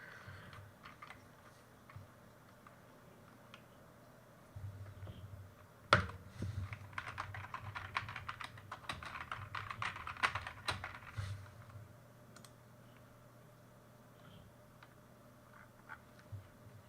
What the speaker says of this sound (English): I think everyone can hear my keyboard